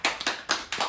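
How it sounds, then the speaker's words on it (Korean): Hands clapping in a church Bible doctrine school camp, four short sharp bursts of applause about a quarter second apart, close and fairly loud, with no talk over them. "하나님께 영광의 박수."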